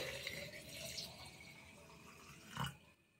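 Water being poured into a pineapple tepache mixture with jaggery or sugar, a quiet close splashing trickle that ends in a brief louder gush.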